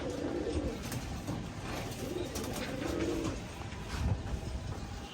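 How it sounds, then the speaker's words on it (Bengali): Teddy pigeons cooing in a steady low murmur, several soft rolling coos over a constant noisy background, fairly close. "আর একটা টেডি কবুতর গাইস আপনাদের দেখাই।"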